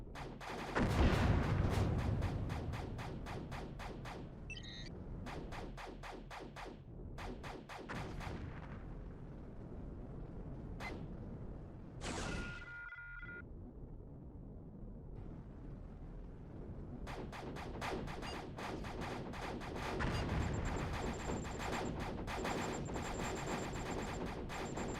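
Spaceship guns fire in the video game Star Runner, with rapid bursts of sharp blasts in long volleys, a brief lull with a few single shots and a whooshing tone, then dense firing resumes, loud and continuous.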